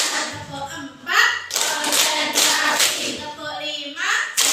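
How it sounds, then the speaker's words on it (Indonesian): A classroom of children clapping their hands in a rhythmic pattern, bursts of sharp claps spread through the stretch, mixed with children's voices. "Tepuk 4."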